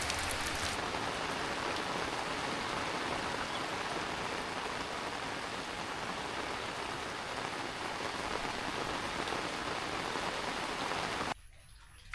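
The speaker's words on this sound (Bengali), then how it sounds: "এখনও কিন্তু বৃষ্টি পড়ছে" Steady, dense rain pours down outside a village home during the rainy season, a continuous close hiss that holds for nearly the whole stretch before cutting off abruptly near the end.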